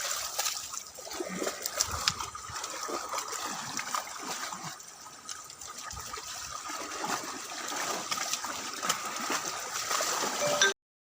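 Buffaloes wading through a shallow village stream, making continuous trickling, rushing water with scattered splashes, moderately loud and close throughout.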